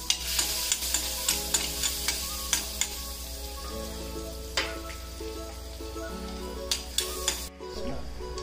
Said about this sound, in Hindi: जैसे ही बटर गर्म होगा उसके अंदर हमने ये बारीक कटी हुई लहसुन डाल दी है